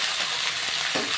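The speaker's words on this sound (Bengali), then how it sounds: "লবণটা আমি দিয়ে দেবো পরিমাণ অনুযায়ী, আর দিয়ে দেবো হলুদের গুঁড়ি দিয়ে ভালো করে আবার একটু নাড়িয়ে ভেজে নেব" Vegetables fry in hot oil with turmeric and salt, a close, continuous sizzle with a light scrape of stirring near the end, heard for a brief moment on its own.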